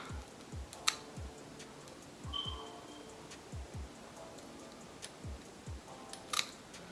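Scissors snip through synthetic wig lace in a series of quiet, close clicks at an uneven pace, set against a faint background hiss.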